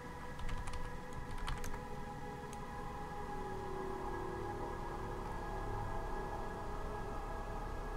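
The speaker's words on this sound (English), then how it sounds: "Oh my god, you can drive with the frickin' keyboard." A computer keyboard is tapped in a quick cluster of keystrokes during play of the space game Objects in Space, then a steady hum of in-game machinery continues with no further typing.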